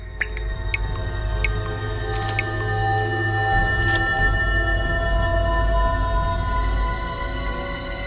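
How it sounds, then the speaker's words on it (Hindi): Water drips in a shut-up flat, a scattering of light, sharp drops ticking irregularly over a constant low hum with no voices. "ये पानी टपकने की आवाज है।"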